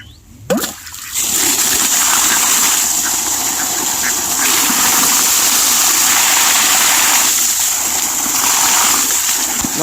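A motor water pump runs steadily, a constant loud drone and rushing splash of water that holds throughout after a brief start, close up with no clear talk.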